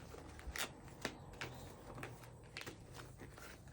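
Faint, quick riffling of cards being shuffled, soft papery flicks and taps in a quiet room.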